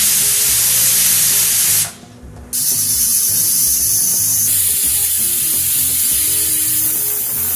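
A pressure cooker cooking rajma on a gas stove lets off steam through its whistle as a loud, continuous rushing hiss that briefly drops away and then resumes steadily.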